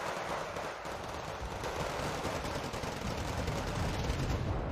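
Dense battlefield gunfire from LAV-2 vehicles shooting at STRV tanks in the Wargame: Red Dragon strategy game, a steady rumbling barrage of shots and blasts with no voices.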